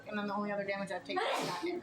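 A person sneezes once, a sharp, close burst right after someone finishes speaking at a tabletop role-playing game session.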